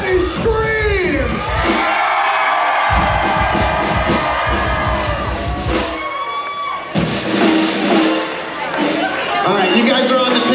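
Large crowd at the 85th annual Placer County Fair screaming, whooping and cheering loudly, a dense sustained roar of many voices filling the whole stretch, with a brief dip partway through before it swells again.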